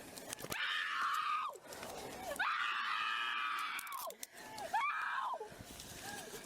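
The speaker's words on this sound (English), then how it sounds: "hear all that screaming" A girl screams in three long, loud bursts at a roadside traffic stop, with short gaps between them and voices in the background.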